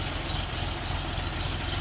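Three-cylinder RD-244 four-wheel-drive mini tractor engine idling steadily during loading, a continuous low, throbbing rumble close by with no talk.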